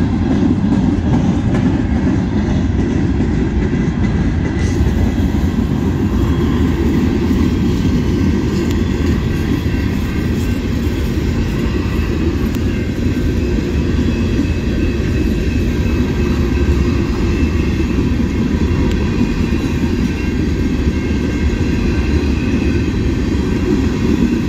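A freight train with flat cars rolls past at night, making a loud, continuous rumble and clatter that holds steady for the whole stretch.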